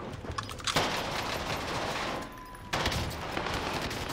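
Dense, continuous gunfire in the battle royale game Warzone, a steady roar of rapid shots that briefly dips in the middle before resuming at full intensity.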